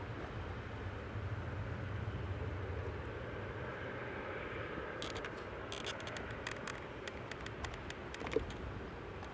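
Ryanair passenger jet in from Funchal rolling along the taxiway at Manchester Airport, a steady distant engine rumble and whine holding throughout, with a burst of faint clicks and rattles partway through.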